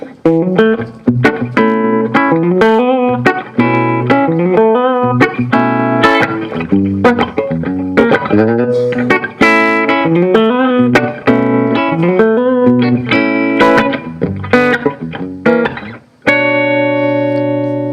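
A hollow body electric guitar, bridge pickup, played loud through an amplifier with distortion, a run of riffs and chords, ending on a sustained ringing chord.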